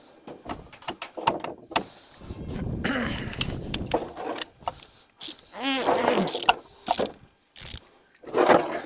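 A ratchet undoing the sump plug underneath a Volkswagen Caddy 1.9 TDI van: bursts of close clicking ratchet strokes with scraping and knocks in between, uneven rhythm, some rustling and handling noise.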